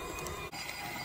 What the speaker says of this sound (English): I'm gonna just use my hand mixer to mix.